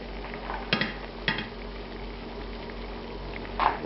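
Cream of celery soup bubbles at a low simmer in a pot, a soft steady liquid burble with a few brief clinks of a lid or utensil against the pot; no one speaks.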